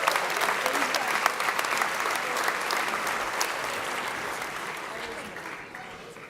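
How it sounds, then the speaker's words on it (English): A large audience at a George Mason University 50th anniversary celebration applauds university faculty and staff, sustained dense clapping that stays loud and gradually tapers toward the end. "Let's have one more round of applause for all of Mason's faculty and staff."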